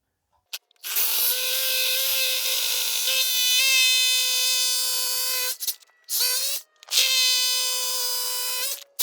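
A power drill bores holes to mount an EV charger stand: one long, loud whining run with a rising pitch, followed by two shorter bursts separated by brief pauses.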